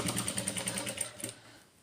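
A sewing machine stitches a puff sleeve in a quick, even run of needle strokes, close and fairly soft, stopping after about a second and a half.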